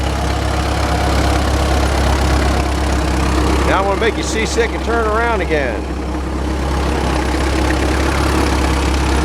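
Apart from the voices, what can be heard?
Case tractor engine idling as it drives in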